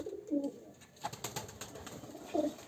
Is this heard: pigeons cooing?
yes